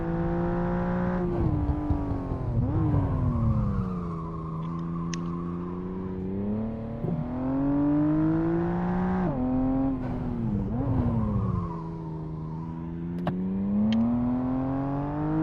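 BMW M4 CS driven hard on a Nordschleife track day, engine loud and close, revving up and down through repeated gear changes and throttle lifts, with sustained high-rev pulls between brief drops.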